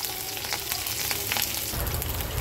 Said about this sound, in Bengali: এর মধ্যে দিয়ে দেব 2 তেজপাতা, 2 শুকনো মরিচ, আর দিয়ে দেব গ্রেট করা আদা। এটাকে সুন্দর করে ভেজে নেব।